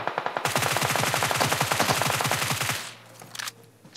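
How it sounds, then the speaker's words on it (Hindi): Rapid automatic gunfire from the mobile battle royale game BGMI rattles in a dense, loud burst of around two dozen close shots lasting about two seconds, followed by a quieter lull and a few fainter sounds. "बंदे ने फायर दिया मुझे।"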